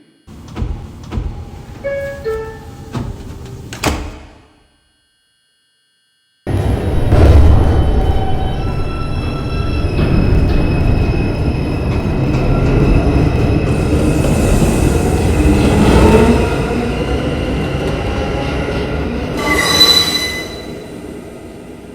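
A New York City subway 2 train bound for Brooklyn College–Flatbush Avenue gives a short tonal chime, falls briefly silent, then rumbles loudly with wheels squealing and rattling along the track, close and continuous.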